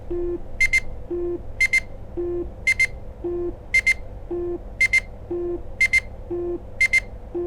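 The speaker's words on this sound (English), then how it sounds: "If you ever lose your Joy-Con, it can be obnoxiously loud." A Nintendo Switch 2 Joy-Con controller sounds its locator alert, repeating a pattern of a low buzzing tone followed by a pair of sharp high beeps at a steady rhythm, loud and insistent against a faint background hum.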